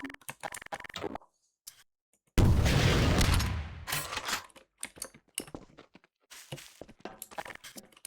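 An explosion in Garry's Mod with RTX bursts as one loud, sudden blast that decays over about a second and a half, surrounded by clicking and tapping from mouse and keyboard.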